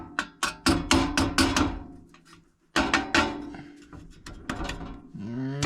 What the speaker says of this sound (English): Tap that on there a little bit.